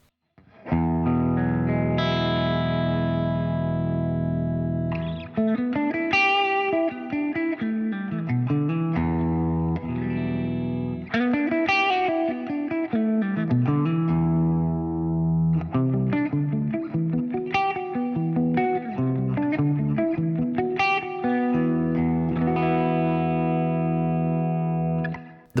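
Electric guitar played through the hall and room reverbs of a Boss IR-200, with effected, slightly distorted chords and melodic lines that ring out into a long reverberant wash, loud and continuous with no talking.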